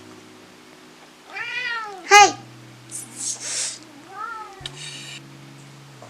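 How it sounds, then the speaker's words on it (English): A cat meows several times in drawn-out, rising calls, close by, with a short spoken interjection and a steady low hum underneath. "I will talk through the meowing"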